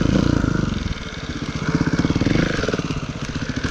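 A 2018 Beta Evo 300 4T trials motorcycle makes a pivot turn in second gear, its four-stroke engine putting out a close, loud, pulsing low chug that rises and falls with short throttle blips.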